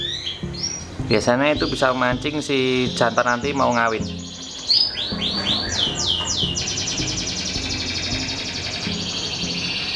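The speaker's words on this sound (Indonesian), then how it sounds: "Jadi pakai HP terus setelin tuh suara kenari gacor" A recorded canary's rapid, trilling song played from a phone, with a slightly tinny tone, running under someone talking at the start, then continuing alone in bright, warbling bursts.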